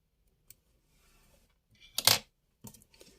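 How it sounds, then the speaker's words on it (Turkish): Scissors snip embroidery thread during needle lace work on a rose motif leaf: a faint tick, then one sharp close cut near the two-second mark and a couple of lighter clicks after, in a quiet room. "ipimi kesiyorum"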